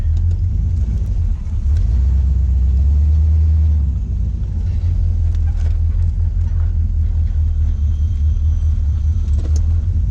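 A classic Chevrolet Camaro idles and creeps along while parking in a small South Carolina town, its engine a steady, deep low rumble close by, with no talk over it.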